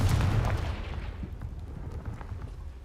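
A Confringo blasting spell goes off in Hogwarts Legacy, a loud booming blast at the start that trails into a rumbling, crackling decay.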